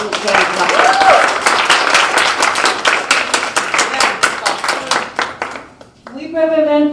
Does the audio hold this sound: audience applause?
yes